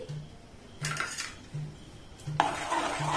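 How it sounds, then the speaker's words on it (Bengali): A spoon stirs a milk mixture in a pan over a low gas flame for homemade chocobar ice cream, giving intermittent scraping and clinking bursts against the metal, close and moderately loud, with brief quiet gaps. "গ্যাসের ফ্লেমটাকে লো রেখে দেখুন এইভাবে অনবরত আমি নাড়াচাড়া করছি"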